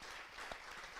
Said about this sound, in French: Ah bah oui, on applaudit.